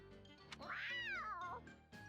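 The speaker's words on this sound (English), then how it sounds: "You're a good kitty, aren't you? Guess who brought you some fish?" A cat in the video game Fire Emblem Warriors lets out one drawn-out, rising-then-falling meow while being fed fish, close and clear over a soft background score.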